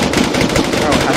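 Rapid automatic gunfire rattles loudly in a multiplayer survival shooter server war, a dense, continuous burst of shots, close and unbroken throughout.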